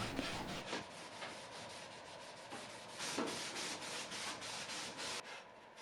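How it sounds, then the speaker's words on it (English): Light hand sanding on the back of an antique wooden serpentine dresser, a steady scratchy rubbing that runs continuously in close, even strokes with no voices. "I lightly sand it and applying gel stain over it"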